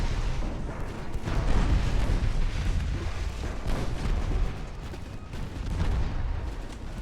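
Torpedo explosions striking a warship in the naval video game Ultimate Admiral: Dreadnoughts, a continuous heavy rumble of booming blasts and gunfire at steady loudness.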